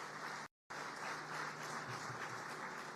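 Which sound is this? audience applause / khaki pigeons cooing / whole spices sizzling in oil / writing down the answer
audience applause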